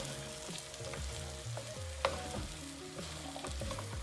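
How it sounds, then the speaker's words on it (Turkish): Dried beans are stirred into a bubbling stew, with a soft steady sizzle and scraping stirs that come back in a loose rhythm. There is no talk. "Kuru fasulyemizi de ekliyoruz. Şöyle bir karıştıralım bunu."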